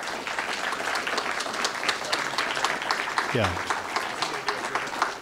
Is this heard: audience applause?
yes